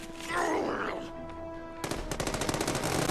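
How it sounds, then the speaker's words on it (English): In The Amazing Spider-Man 2 video game, rapid automatic weapons fire breaks out in a dense burst of sharp repeated shots after a groaning voice and game sounds, loud and close. "The less people shooting me with automatic weapons, the better."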